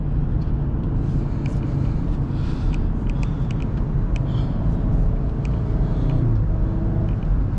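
A BMW X5 50i engine runs as a steady, loud low rumble from inside the moving car, with faint rising and falling shifts as it downshifts, alongside light road noise and no voices.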